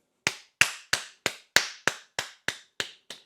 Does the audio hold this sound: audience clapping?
yes